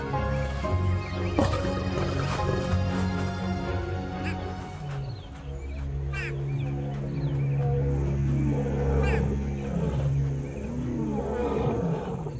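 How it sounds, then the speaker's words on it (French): A pride of lionesses in Tanzania roaring together, deep overlapping roars and grunts rolling continuously and loudly, with no talk. "Les rugissements collectifs annoncent que le clan est de nouveau au complet."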